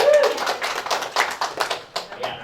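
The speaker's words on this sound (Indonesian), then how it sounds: "Tepuk tangan dulu buat kita." A small group at an organisational orientation event in Malang claps in a short burst of uneven, fairly close hand claps lasting a couple of seconds, with a voice audible at the start.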